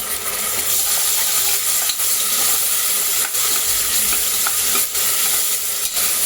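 Green chilli paste sizzles loudly in a pot with a dense, steady frying hiss, broken by a few brief clicks and stirring scrapes.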